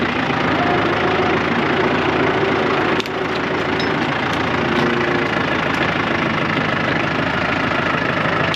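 A tractor engine works hard on a farm in central Portugal while pushing over a dead tree, a loud, steady diesel chug with a brief crack partway through.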